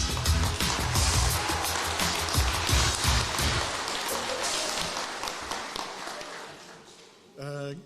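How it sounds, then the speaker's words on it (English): Sustained applause from an audience at a regional sports awards evening for an award recipient, a dense broadband patter of many hands clapping that fades before a voice begins speaking at the end. "Please give a warm hand of applause to Zach Prendergast"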